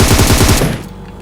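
Automatic gunfire sprays in the mobile shooter game PUBG Mobile, a loud, rapid burst of evenly spaced shots lasting about half a second before cutting off into a fading tail.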